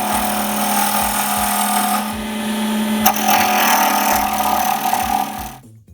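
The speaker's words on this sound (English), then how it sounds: "This is how a sharp tool sounds." A sharp turning tool cuts a pen blank spinning on a wood lathe, giving a steady, close, continuous shaving hiss over the motor's hum for nearly six seconds before stopping abruptly.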